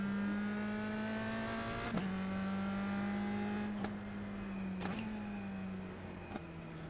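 Race car engine in the iRacing simulator, holding a sustained high whine with quick shifts or lift-offs about every two to three seconds, moderate in level and without talk.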